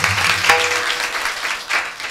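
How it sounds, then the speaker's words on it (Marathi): An audience at a Marathi devotional gathering claps loudly in a dense, continuous burst that swells briefly near the end. "एकदा जोरदार टाळ्या झाला पाहिजे"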